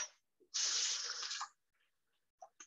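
Hands are rinsed under a running kitchen tap during cooking, a soft one-second rush of water followed by a few faint drips and splashes.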